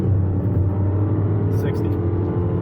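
A BMW X1 engine in Sport Plus mode pulls hard under acceleration, a steady deep, rumbling drone that holds loud and close from the cabin for the whole stretch.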